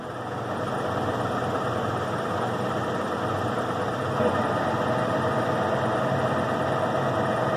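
A Carlton 6' x 17" radial arm drill running steadily after a gear change, a continuous loud mechanical hum and drone with no pauses.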